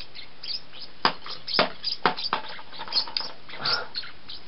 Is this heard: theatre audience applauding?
no